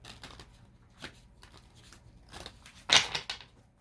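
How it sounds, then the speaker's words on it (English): Playing cards are riffled and shuffled in quick bursts up close, ending in one louder, crisp flurry. "I'm being guided to just shuffle really quick."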